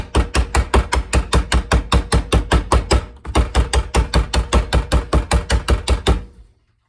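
Steady, rapid hammering with the back of an axe: about thirty sharp metallic blows in an even rhythm, a brief pause midway, then ringing off at the end.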